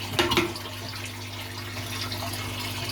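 Water runs steadily through a hose into a fish tank in a fish room, a continuous trickling wash with a couple of brief splashy bursts at the start.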